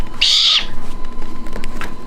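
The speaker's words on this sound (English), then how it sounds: "Baby owls" Baby owls at a wildlife rescue center on Anna Maria Island calling with a loud, close, raspy hissing screech lasting under half a second, followed by softer background noise.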